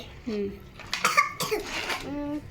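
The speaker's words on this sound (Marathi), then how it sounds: "खोकला करून फक्त खोकला येतो" A child coughs a few times in short bursts, mixed with brief childish vocalizing, close to the listener.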